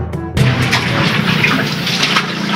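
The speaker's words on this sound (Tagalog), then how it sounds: "Yan na po, kumukulo na." Water bubbling and rolling in a pot while cooking pancit canton, a loud continuous churning wash that starts abruptly and holds steady close by.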